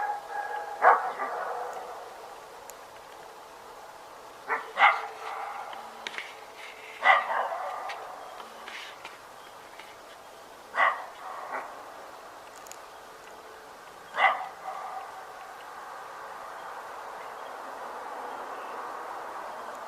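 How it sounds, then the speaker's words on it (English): Dogs barking in the distance off to one side of a Tennessee woodland hunting area, a handful of separate bark bursts spaced several seconds apart over a quiet outdoor background. "then the dogs up to the left started barking at them"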